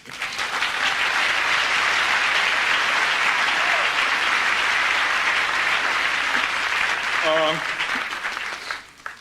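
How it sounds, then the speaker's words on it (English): Audience at an awards ceremony applauding the nominees, a loud, dense wash of clapping that swells and holds for several seconds before tapering off, with a brief voice near the end. "I'd like a hand of applause for all of the other nominees"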